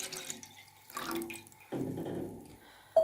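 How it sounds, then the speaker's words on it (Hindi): Water from a glass pours into a cooking pot in short bursts of splashing and trickling, with a longer steady pour in the second half and a small clink at the end. "इसके अंदर 1 गिलास पानी शामिल करेंगे"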